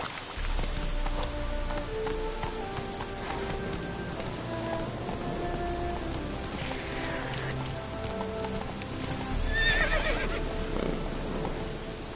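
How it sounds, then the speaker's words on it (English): A horse galloping through rain in The Witcher 3, with hoofbeats under steady rainfall and loud whinnies rising near the end, with no talking. "Slower. Run, Roach."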